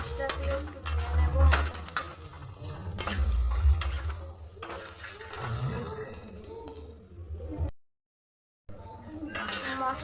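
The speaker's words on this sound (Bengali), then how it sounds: "এবার গ্যাসের ফ্লেমটা লোতে দিয়ে মশলাগুলো একটু ভেজে নেব" Spices fry in a pan over a low gas flame, a steady sizzle with repeated clattering stirs of a utensil against the pan, briefly cut to silence before the frying resumes.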